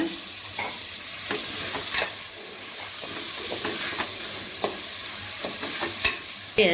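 Four large onions cut into long slices and green chillies sautéing in a pan for mutton biryani, a loud continuous sizzle broken by repeated spoon-scraping strokes, no talking.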